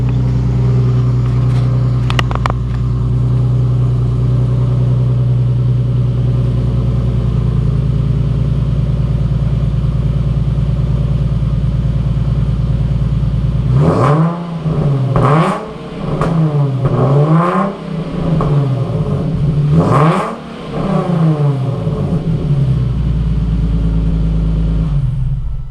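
A Nissan 370Z with a loud track exhaust idles steadily, then is revved hard several times in quick succession, each rev rising and falling sharply before settling back to a rumbling idle.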